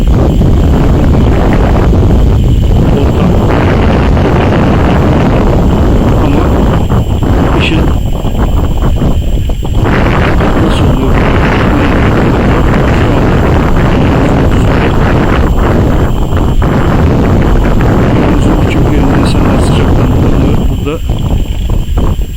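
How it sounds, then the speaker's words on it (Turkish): Strong, steady cold wind on the flat Karabörk plateau roars and buffets the microphone throughout, a loud continuous rush with gusty dips, and no other clear sounds stand out. "soğuk, rüzgar insanın kulaklarına tıkıyor"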